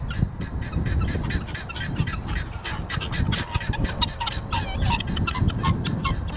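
A flock of chickens and other fowl feeds busily at close range, producing a continuous, dense chorus of overlapping clucks and soft squawks with pecking and scuffling underneath.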